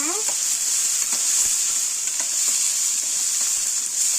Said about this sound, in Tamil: இது ரெண்டுத்தையும் நல்லா வதக்கி விட்டுக்கோங்க